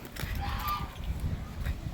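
A farm goose gives a couple of short, faint honks amid low background noise and shuffling, lasting about two seconds.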